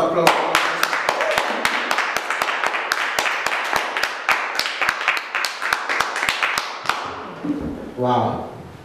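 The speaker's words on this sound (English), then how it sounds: "Let's give a hand of applause." A church congregation claps together after a sermon, with a steady run of sharp, close hand claps over about seven seconds, fading into a short spoken voice at the end.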